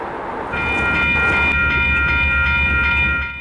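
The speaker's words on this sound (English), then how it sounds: "Led by two GP20C Ecos, C-46 is hauling this small mixed train destined for Carsland, Alberta." Freight train led by two GP20C Eco locomotives running east out of Ogden on the Brooks subdivision, a steady loud rumble of engines and rolling wagons with a bright sustained horn-like tone near and alone.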